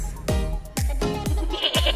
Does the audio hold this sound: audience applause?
no